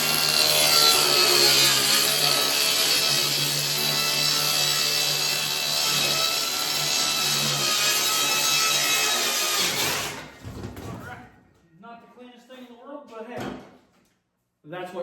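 A circular skill saw rips through wood along a chalk line for about ten seconds, a loud sustained whine. It then stops abruptly, followed by a few knocks, handling noises and brief talk.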